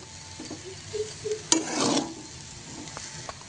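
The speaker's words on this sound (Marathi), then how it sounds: "तळलेले शेंगदाणे आपण इथे घालून घेतो" Fried peanuts tumble into a pan of soft bhuga and get stirred through with a spoon, giving a brief rattling scrape and a short burst of stirring over faint sizzling and quiet spoon clinks, close up with no talk.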